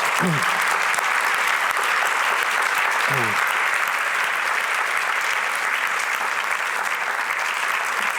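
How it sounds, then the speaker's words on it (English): A conference audience applauds a team with dense, steady clapping that fills the hall, while a voice breaks through briefly a couple of times. "And I think this team really needs a very applause."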